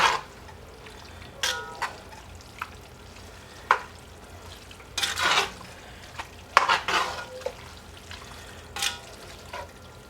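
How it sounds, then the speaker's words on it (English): Egg noodles are stirred into a casserole in a pan, with wet squelching mixing, scattered clinks and scrapes of a utensil against metal, and a faint simmer beneath, close and without talk. "And mix those to combine"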